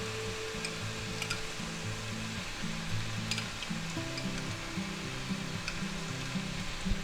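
Butter sizzles steadily in a hot frying pan, a continuous close crackle and hiss with faint tonal hum underneath, while garlic mushrooms are being sautéed for a spinach cheese omelet.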